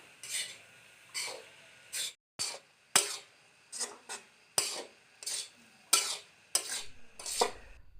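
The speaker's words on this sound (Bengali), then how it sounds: "মাঝে মাঝে নাড়িয়ে দেব।" A spoon scrapes and stirs taro leaves cooking in a pan over medium heat, about ten brisk, evenly spaced rasping strokes, close and distinct against near silence.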